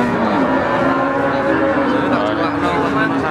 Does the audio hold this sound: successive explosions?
no